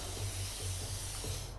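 Spray paint can hissing in the video game inFAMOUS Second Son, a steady close airy hiss with a low mechanical hum pulsing underneath, no speech.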